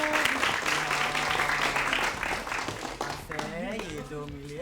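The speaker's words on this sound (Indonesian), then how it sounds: "Nah, tepuk tangan dulu." Audience applause at an Indonesian school event for SMK Muhammadiyah 3 Palembang, a dense burst of clapping that fades after about three seconds as a voice begins talking.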